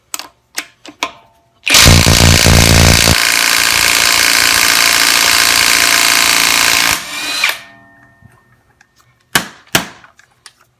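Kimo 20V cordless 1/2-inch impact wrench removes an overtightened lug nut: a few clicks, then a loud rapid hammering burst that settles into a steady whir for about five seconds, followed by more clicks.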